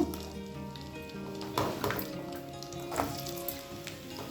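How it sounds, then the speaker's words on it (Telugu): Chopped onions drop into two ladles of hot oil in a pan for a taro root tamarind stew. A steady, close sizzle rises in sharp bursts as the onions land, with faint stirring. No one speaks. "ఇప్పుడు మనం ఉల్లిపాయలు వేసుకుందాం."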